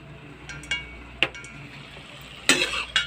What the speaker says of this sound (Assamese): শাক ভাজিব সকলোৱে জানে, তথাপিও মই কেনেকৈ ভাজিছোঁ এইটো দেখালোঁ আৰু